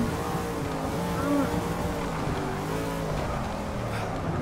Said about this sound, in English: Drifting around the corner.